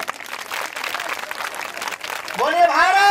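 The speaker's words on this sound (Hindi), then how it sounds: "एक बार पुनः से आप अपने लिए स्वागत के लिए तालियां बजाओ" Audience applause at a Hindi storytelling and motivational talk event, a dense wash of many hands clapping that continues steadily, then a man's sung or drawn-out voice rises over the clapping near the end.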